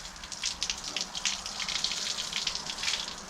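Rainwater left by the previous night's storm splashes and trickles in a continuous, moderately quiet patter with small irregular bursts.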